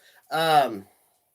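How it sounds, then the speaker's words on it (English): A cat gives a single short, clear meow that slides downward in pitch at the end, heard close up against near silence. "Kitty says hi, y'all"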